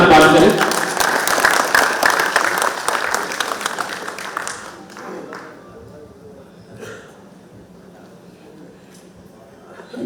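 Warm audience applause welcoming a guest speaker at a mushaira and kavi sammelan poetry gathering, loud dense clapping for about four seconds that thins out and fades into room quiet with faint voices.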